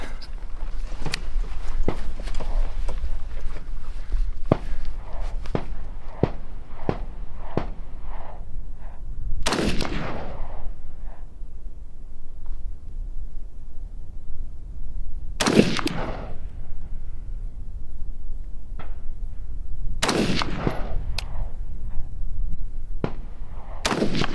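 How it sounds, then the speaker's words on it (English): Rifle shots fired while testing a GUNNR Odin budget LPVO scope at a small target: three loud, sharp reports spaced several seconds apart, each ringing out briefly, preceded by a run of quieter clicks and knocks. "Those last shots all went center as far as I could tell."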